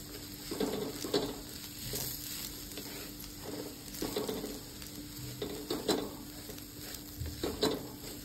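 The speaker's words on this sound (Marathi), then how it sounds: "हे मिश्रण आपलं चांगलं व्यवस्थित परतून घेऊया" Coarse ground karela thecha mixture stir-fried in a pan over low heat: soft continuous sizzle broken by repeated spatula scrapes and light clatters against the pan, close and fairly quiet, no talking.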